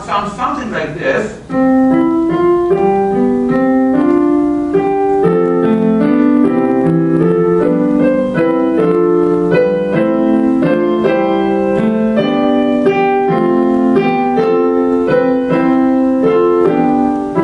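Four-part canon plays as layered polyphonic instrumental music, several voices entering and overlapping in a steady stream of sustained notes, loud and continuous, with no talk.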